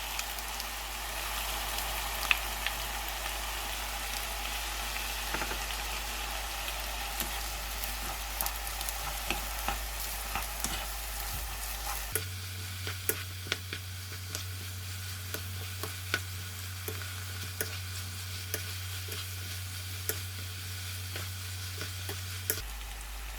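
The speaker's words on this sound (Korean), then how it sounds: "썰어 놓은 대파, 청양고추를 넣어서 잘 섞어줍니다." Fish cake strips stir-fried with sliced paprika, green onion and chili peppers, giving a steady sizzle with scattered light clicks of stirring throughout, under a low hum that changes partway through.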